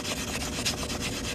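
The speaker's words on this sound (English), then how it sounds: "I'm just sanding this cut edge" Sandpaper rubs back and forth over the freshly cut metal edge of a coin, a close, dry rasping in quick repeated strokes.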